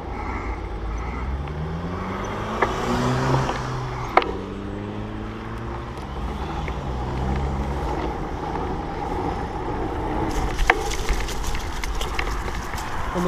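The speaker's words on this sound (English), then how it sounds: "Rush hour traffic though." Rush-hour road traffic passes on a road without a shoulder during a bike ride, producing a steady, loud engine rumble with tones that rise and fall as vehicles go by, plus a few sharp clicks.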